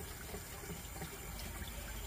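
Water running from a kitchen sink tap while a toddler washes dishes, a faint, even hiss of flowing water with no breaks.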